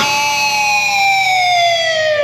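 Screaming electric guitar harmonics bent with the whammy bar, several high tones sustaining loudly together and slowly drooping in pitch across a couple of seconds.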